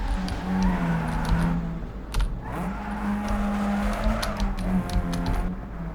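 A car drifts in Need for Speed Underground 2, a steady droning engine with faint tire skid and scrape running throughout, fairly close.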